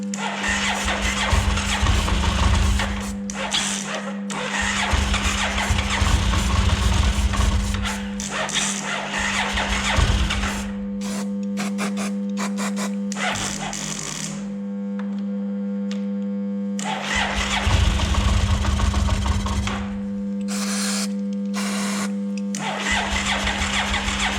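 A Yamaha TDM 850 motorcycle engine turns over in loud, ragged bursts that catch and fade, with a steady hum in between and stretches of near quiet.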